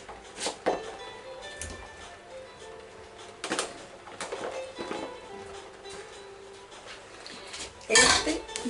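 Cured, marinated pork cracklings (torreznos) go into a pan, giving scattered clinks and knocks of metal and utensils at irregular intervals with a louder clatter near the end, fairly close and quiet overall.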